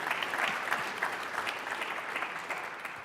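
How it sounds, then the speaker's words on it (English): A crowd applauds at a 2018 annual public meeting, moderately quiet and even clapping from many hands that runs throughout with no talk over it. "Let's give her a round of applause."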